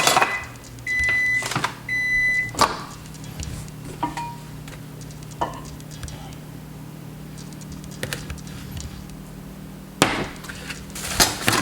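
A microwave oven softening butter in a home kitchen runs with a steady low hum, broken by a few sharp clicks and knocks, with two beeps early on.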